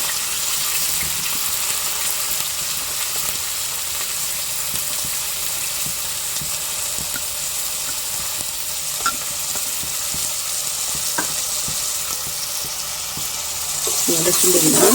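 Onions, tomatoes and green chillies sizzle in a hot pan in a steady dense hiss with faint stirring clicks, swelling louder in the last second.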